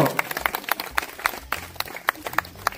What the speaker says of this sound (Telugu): చప్పట్లు అందరూ